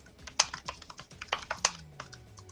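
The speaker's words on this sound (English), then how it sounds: "That's you typing." Quick, uneven clicks of keys on a computer keyboard, close and fairly quiet, with bursts of several presses and short pauses between them.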